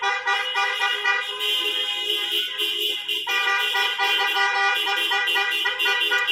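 Several car horns honk continuously together at an Arabic wedding in Qatar as the groom's Mercedes-Benz arrives, a loud tonal blare holding steady for several seconds with slight shifts in pitch.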